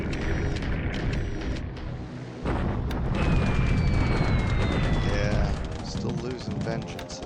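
Aerial bombs exploding in the WWII naval war game War in the Pacific, dropped from 15,000 feet: muffled booms and rumbling bursts layered over a busy battle din, with speech heard alongside.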